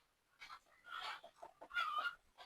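An Aseel hen clucks in short, soft bursts, fairly close and quiet, with a few brief pauses between calls.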